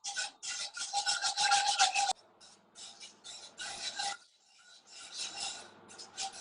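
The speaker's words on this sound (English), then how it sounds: "So we're still lightly stirring. The roux is coming along." A whisk scrapes and stirs a roux in a pan for a tuna pasta bake, giving close, steady rasping strokes that are louder at first and then lighter and more broken.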